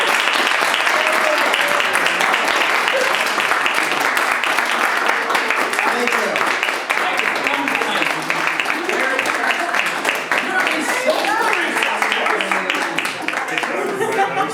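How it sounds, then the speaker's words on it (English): Loud, sustained applause from a crowd at a holiday stage show, dense clapping that continues steadily for the full length, with voices mixed in underneath. "And everybody, thunderous applause."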